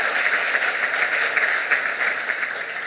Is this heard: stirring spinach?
no